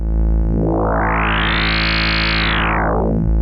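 Neuzeit Instruments WARP synthesizer oscillator under phase modulation: a sustained tone whose bright harmonics sweep upward, hold, then fall back, steady and loud over a constant low drone, alone.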